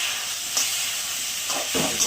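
Pointed gourds hitting hot oil in a pan already holding fried onion, garlic and chilli give a steady close sizzling hiss, with a few brief spatters.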